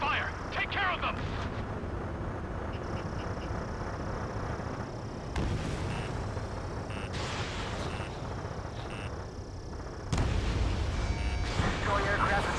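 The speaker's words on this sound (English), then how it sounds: "We're taking fire!" Steady roar of cannon fire and explosions during an aerial combat mission in Ace Combat 7: Skies Unknown, a dense continuous barrage with sharper bursts near the middle and end, under radio chatter and music.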